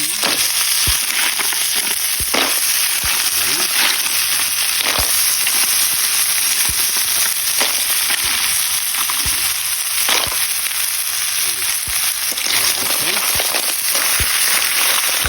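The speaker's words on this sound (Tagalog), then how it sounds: "Gagisa lang natin ito ng 2 minutes" Snails (kuhol) sauté in a hot pan with a loud, constant sizzle and crackle, close up, with occasional stirring clatter and a faint voice in the background.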